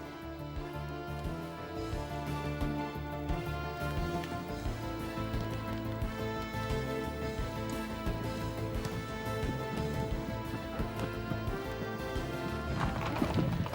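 Icelandic horses clip-clop along on a cross-country holiday ride, their hoofbeats steady and moderately close under a continuous bed of music.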